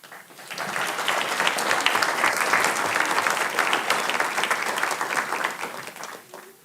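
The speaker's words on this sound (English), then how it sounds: "It's the best cheering crowd yet." An audience at a city council meeting applauds and cheers, steady loud clapping that swells in, holds for several seconds and tapers off at the end, with no talking over it.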